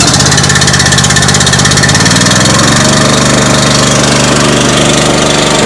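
A vertical log splitter's small gasoline engine catches at half throttle and full choke, then settles into a steady, loud, close idle with a continuous chugging rumble throughout.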